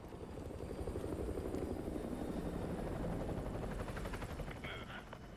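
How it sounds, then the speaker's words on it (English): An enemy helicopter patrols overhead in Modern Warfare 2 Remastered, its rotor beating in a constant, rapid thump that stays steady and fairly close throughout, with a faint whine near the end. "Enemy helo patrolling the perimeter."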